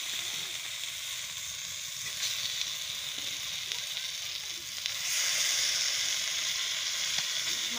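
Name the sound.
meat sizzling in pan with garlic, ginger and spice paste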